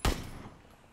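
Gunfire in the PUBG battle royale video game: a single sharp, loud shot at the start with a decaying echo tail, no voices.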